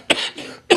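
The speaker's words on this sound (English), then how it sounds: "I still got a little bit of a cough from this flu bug" A person recovering from the flu coughs twice, close and loud, with sharp separate bursts and a short pause between them.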